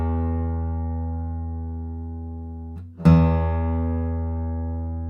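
A custom dreadnought acoustic guitar of highly figured mahogany rings with a sustained low chord, then a fresh strum around three seconds in sends a full, bass-heavy ring out, close and unaccompanied.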